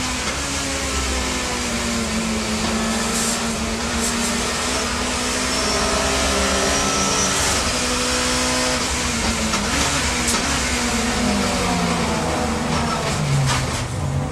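Touring cars race at high speed on the Brands Hatch circuit, braking hard into Paddock Hill Bend at up to 125 mph; loud continuous engine roar with shifting pitch as revs drop under braking, steady throughout.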